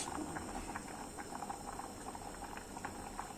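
Black rice boiling in a pot of water, a steady soft bubbling with small irregular pops, close and fairly quiet, no voices over it.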